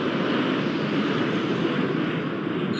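Airport Madness 4 video game airplane taking off: a steady, broad engine roar holding level throughout, with no speech.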